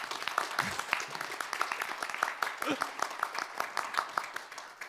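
Audience applauding panelists at a Korean panel discussion on blockchain industry promotion, a steady patter of hand claps filling the room for about five seconds, moderately loud, with voices and murmur mixed in.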